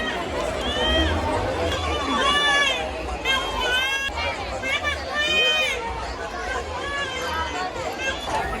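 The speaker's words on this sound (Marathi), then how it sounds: "किती मित्रांनो गर्दी आहे बघू शकता मित्रांनो, खूपच गर्दी आहे" A dense crowd at the Mhasa jatra fair in Murbad, a constant babble of many voices with chatter and calls, near and lively, with a low rumble underneath throughout.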